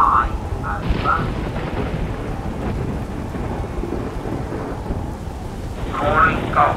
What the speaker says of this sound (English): I think there will be a storm in the sky